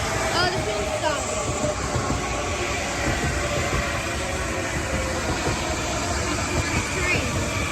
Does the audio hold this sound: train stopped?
yes